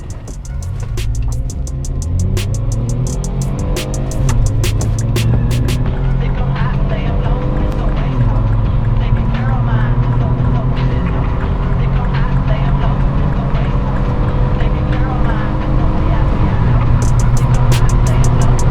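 Opel Vectra C 2.8 Turbo engine running on gas, a steady loud drone that rises in pitch as it pulls through the revs, with a voice talking over it.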